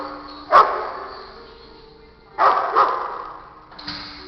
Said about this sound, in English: Max just annoys everyone with the barking in the ear